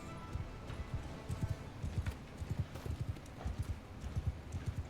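Horses galloping in Mount & Blade II: Bannerlord: a continuous, rhythmic thudding of many hooves close by, with steady clip-clop beats throughout.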